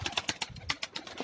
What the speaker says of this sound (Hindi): ये भी एक दूधिया खतंग कबूतर है